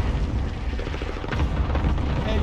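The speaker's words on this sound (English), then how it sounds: "Cluster strike on junkyard. Cluster strike away." Cluster strike explosions rumble in a video game, a dense, continuous low booming and crackling barrage that stays loud for the whole stretch.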